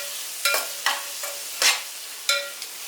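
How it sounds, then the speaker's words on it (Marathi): Green peas are stirred and sautéed in a spice masala, sizzling quietly under repeated sharp scrapes of a spoon against the pan, about six distinct strokes close by. "हे मटार चांगले परतून घ्यायचे या मसाल्यामध्ये।"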